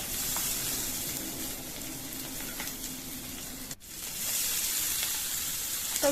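Paneer cubes sizzle and fry steadily in hot oil for chilli paneer, a continuous close crackling hiss that cuts out briefly near the end before resuming.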